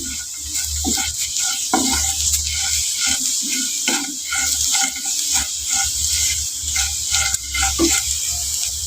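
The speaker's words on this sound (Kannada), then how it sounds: "ಇವಾಗ ನೋಡಿ ಪೂರ್ತಿ ಫ್ರೈ ಆಗಿದೆ ಇವಾಗ ನೋಡಿ ಸೌಂಡ್ ಕೇಳ್ತಾ ಇರಬೇಕು" Potato snacks crackle and bubble steadily in hot oil, with frequent sputters close by and occasional stirring noises.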